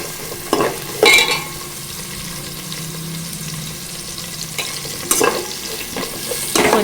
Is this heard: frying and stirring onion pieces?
yes